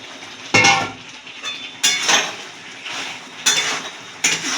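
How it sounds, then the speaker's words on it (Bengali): Bitter gourd and eggplant being stirred in a cooking pan for a Bengali shukto, with several sharp clattering scrapes of a utensil against the metal pan, spaced about a second apart over a low background hiss. "কিছুক্ষণ নাড়াচাড়া দিয়ে দিতে হবে। উচ্ছে আর বেগুনটা এবার দিয়ে দিলাম।"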